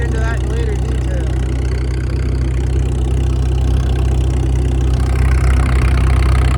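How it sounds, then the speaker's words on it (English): An International Harvester W4 tractor drives a threshing machine at a steam-era show, a loud, steady low engine drone with mechanical rumble running throughout, and speech partly over it. "So we got a W4 in the thrash machine in the background there."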